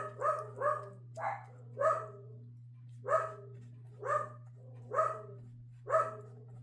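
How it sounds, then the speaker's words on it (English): Puppies barking indoors, a run of short yappy barks in loose bursts with brief gaps, fairly close and clear over a steady low hum. "Are your puppies barking back at Adam?"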